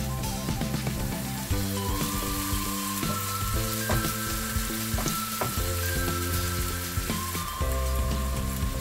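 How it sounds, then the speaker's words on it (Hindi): Schezwan sauce masala with tomato and salt sizzles and is stirred in a pan, a dense continuous frying hiss with scraping, set under steady background music. "इस मसाले को हमें अच्छे से भूनना है जब तक इसका कलर चेंज ना हो जाए।"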